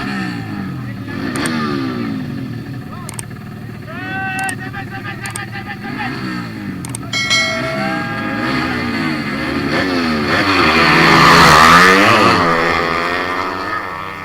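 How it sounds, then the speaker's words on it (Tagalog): Motorcycles in a drag race at Asingan rev and whine through their gears, building to a loud, close roaring pass near the end while a commentator talks over the engines. "Siguradong magiging magandang laban ito kasi mas malaki ang makina ni Kalo pero mas mautak si Bangus sa ilaw."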